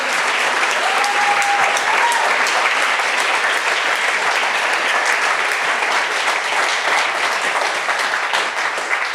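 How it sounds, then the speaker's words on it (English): A conference audience applauds a panel at the close of a session, steady and loud clapping filling the room throughout without a break, with a faint voice briefly audible beneath it. "Give them another round of applause."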